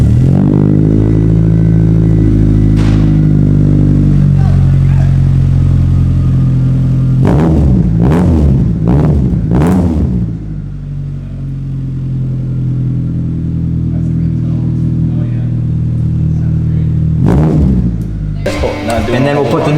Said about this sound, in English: We're going to fire it up for the first time with the new exhaust.